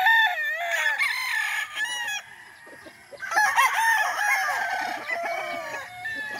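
A gamecock broodcock rooster on a farm crows loudly and close by, several times in a row, with a few clucks between the calls.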